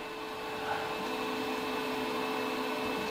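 An Elegoo Mars resin 3D printer raises its build plate with a steady motor hum and a few thin sustained whining tones, constant and close throughout, with no talking.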